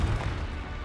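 Confringo blasting spell from Hogwarts Legacy, a short deep boom with a low rumbling body that fades quickly under a lingering wash of noise.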